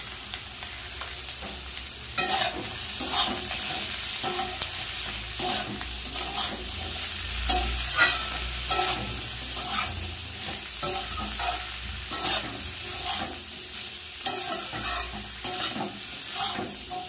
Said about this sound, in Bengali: উচ্ছে কুমড়ো বেগুন ভাজা কিন্তু হয়ে এসছে